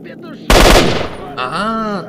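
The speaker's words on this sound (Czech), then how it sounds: "Ale tady se pořád střílí." Burst of gunfire in STALKER: Shadow of Chernobyl, in the Dark Valley area, a loud dense volley that erupts suddenly and rings out, followed by a short trailing tonal game sound.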